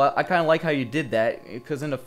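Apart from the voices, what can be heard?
None of the usual background noises is heard.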